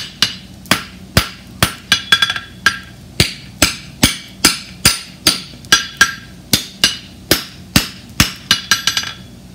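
A steel bar shoe is hammered in steady, rhythmic, ringing blows, about two per second, close and loud, with a quick flurry of lighter taps at the end and no talking.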